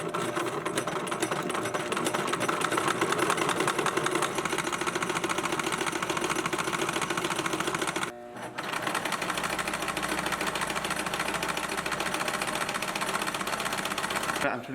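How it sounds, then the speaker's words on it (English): A sewing machine stitches a strap onto a homemade hunting saddle, a fast steady mechanical whir and clatter running almost continuously with one brief pause, while people talk over it. "go right over to the sewing machine and just get something sewed on so that the strap is in place."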